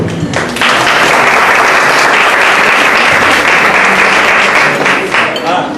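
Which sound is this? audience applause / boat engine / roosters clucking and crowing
audience applause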